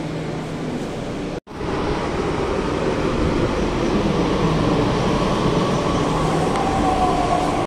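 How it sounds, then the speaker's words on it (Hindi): A crowded metro train heading to Gurgaon roars along the track, a loud, steady rumble and rush that starts after a brief cut and continues without voices. "गुड़गांव वाली मेट्रो जो गुड़गांव जा रही है फुल भरी पड़ी है।"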